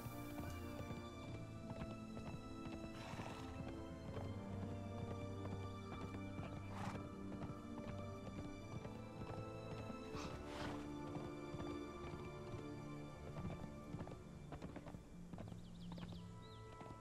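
Horse hooves clop steadily while riding in the video game Conan Exiles, a continuous rhythmic beat with occasional whinnies, set under a dense layer of game music and ambience.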